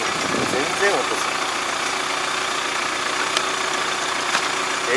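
A Kubota MZ775 tractor engine idles steadily with a rough, rattling hum, close and continuous, with a few faint clanks over it and no voices.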